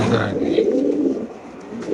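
A Lotan pigeon, kept for sale, coos in a low, continuous throaty rumble close by, while someone talks over it.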